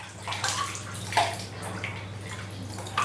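Cold water splashes from a bucket over the knees in a home remedy for knee pain, a few soft pours and splashes over a low steady hum.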